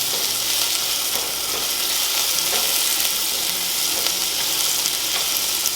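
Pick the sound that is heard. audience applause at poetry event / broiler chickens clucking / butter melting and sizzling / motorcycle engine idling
butter melting and sizzling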